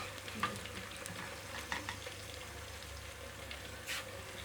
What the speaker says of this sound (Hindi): लहसुन का पेस्ट को भी हम भूनेंगे। इसमें हम टमाटर डालेंगे।